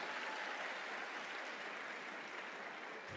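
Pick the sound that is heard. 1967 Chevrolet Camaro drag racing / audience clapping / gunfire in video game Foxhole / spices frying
audience clapping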